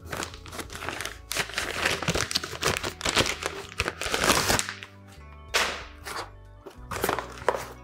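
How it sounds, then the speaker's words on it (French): Packaging of a parcel holding a Serica 8315 GMT chronometer watch being unwrapped up close, with dense crinkling, rustling and tearing of paper and plastic plus a few thuds, broken by short pauses. "on va procéder au déballage"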